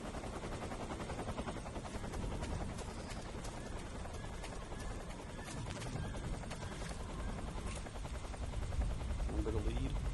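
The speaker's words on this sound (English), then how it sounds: "I'm going to wait for this helicopter to pass." Helicopter in the video game Metal Gear Solid 3: Snake Eater, a steady, fairly faint rotor drone with rapid chopping pulses holding constant across the whole stretch, over dense game background noise, no talk heard.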